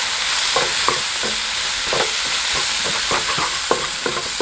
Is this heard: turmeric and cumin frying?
yes